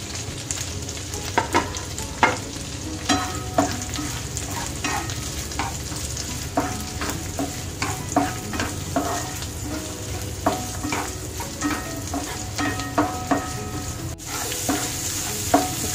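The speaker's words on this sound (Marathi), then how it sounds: "कांदा मिरची छान परतली आहेत" Onion, capsicum and green chilli sautéing in a pan for chicken chilli, a continuous close sizzle broken by frequent scraping clinks of a spatula stirring, loud and without talk.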